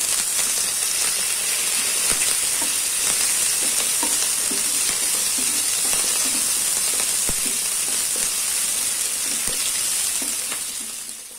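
A large onion and a bunch of curry leaves fry in a pan with already-browned chana and urad dal, giving a loud, steady sizzling hiss with faint scattered crackles that carries on unbroken before easing slightly at the end.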